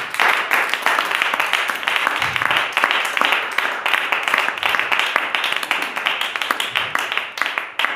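Church congregation clapping hands together at a worship service, a brisk, continuous patter of many hands that stays fairly even throughout, with faint voices mixed in.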